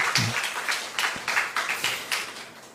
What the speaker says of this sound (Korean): 박수 한번 할까요, 우리? 같이?